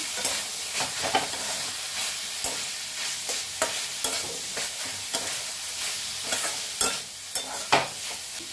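A spoon scrapes and stirs fried banana stem with ghee in a pan, repeated clicks and soft sizzling, close and fairly quiet, with no talking.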